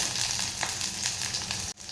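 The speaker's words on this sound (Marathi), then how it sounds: "कांदा घातल्यानंतर तो छान असा परतून घ्यायचा आहे. आणि तेल सुद्धा छान गरम झालेलं आहे." Sliced onion sizzles steadily in hot oil for a fish curry, a dense, continuous frying hiss up close with a few faint stirring scrapes and a brief drop near the end.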